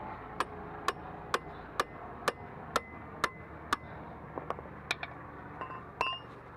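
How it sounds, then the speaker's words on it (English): Hammer blows on a chisel driven against a stuck flex joint on the prop shaft of an E55 AMG, about a dozen sharp metallic strikes at a steady rhythm, moderately close with no talk. "I had to use a chisel and a hammer to basically break free the flex joint from the prop shaft"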